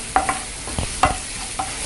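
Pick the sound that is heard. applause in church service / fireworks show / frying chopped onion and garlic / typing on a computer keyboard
frying chopped onion and garlic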